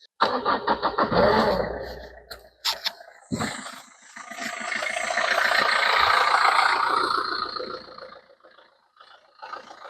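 A Peugeot 307 engine cranks in a quick stuttering series, then catches and settles into a steady mid-pitched run that fades toward the end, heard close with no speech.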